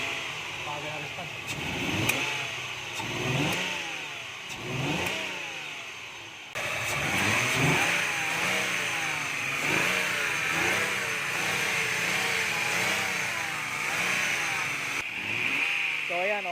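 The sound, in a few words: Mazda Lantis Type-R V6 engine revving after tuning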